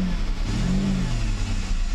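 A Mercedes 600SL engine revs up smoothly and strongly, heard close and loud in one brief continuous acceleration.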